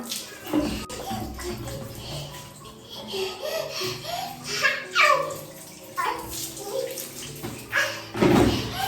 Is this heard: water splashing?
yes